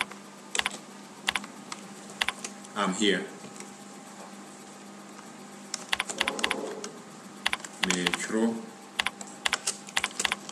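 Typing on a computer keyboard with a Kasahorow African-language layout, scattered quick clicks and short bursts of keystrokes, close and clear, while a voice speaks briefly in between.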